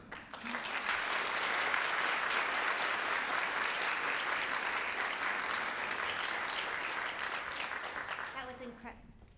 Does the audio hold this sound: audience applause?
yes